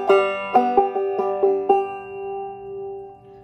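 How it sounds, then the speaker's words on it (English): Clawhammer banjo picking a phrase of Auld Lang Syne with two bum ditties, a quick run of about seven plucked and strummed notes in a lilting rhythm, then a long ringing chord fading out, close and solo. "So it sounds like this with those two bum ditties."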